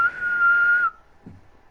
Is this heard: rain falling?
no